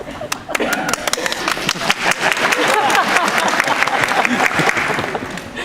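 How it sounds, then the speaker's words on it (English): Audience applause follows a cadet's speech, a dense wash of clapping that swells and holds steady, with a few sharper individual claps at the start and scattered voices mixed in. "I'd like a round of applause after everything I say."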